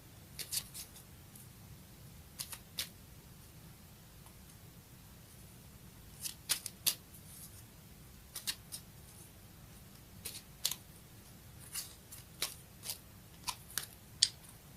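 Tarot cards are shuffled and drawn in a quiet room, with scattered soft papery flicks and snaps in small clusters across the stretch, close but faint.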